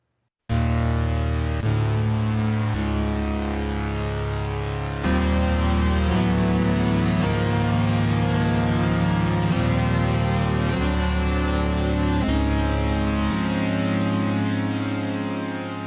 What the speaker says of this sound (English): this piece of music is entirely MIDI